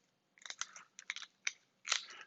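Scissors crunch through hard crab shell in four short, brittle snips, close up, with brief pauses between cuts.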